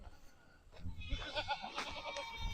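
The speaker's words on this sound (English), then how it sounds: "over here's our mama goats" Mama goats penned up on a farm, a faint bleat or two rising over quiet background rustle, near and brief.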